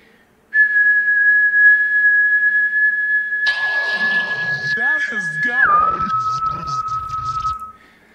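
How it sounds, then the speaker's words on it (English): A person whistles near the frequency of a DJ timecode record: one long, loud, steady pitched tone that drops abruptly to a lower pitch near the end, with rough noise layered over the middle. "what if I whistled at a frequency that is somewhere in the vicinity of a timecode record?"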